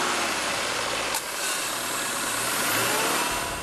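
A 2013 Subaru Crosstrek's 2-liter boxer engine runs with a steady mid-pitched drone, close and continuous, with a low engine hum holding beneath broad road noise.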